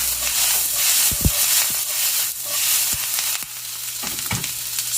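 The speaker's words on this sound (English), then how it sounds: "So you're going to want to stir your onions so they don't burn, but we do want a golden color on them" Onions, garlic and chili flakes sizzle steadily in a pan, with a few sharp clicks of stirring near the start and middle; no one speaks.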